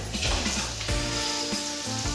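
Hot mustard oil sizzling in a pan before cooking steamed hilsa, a dense hissing crackle up close with a few brief clunks of the pan or utensil.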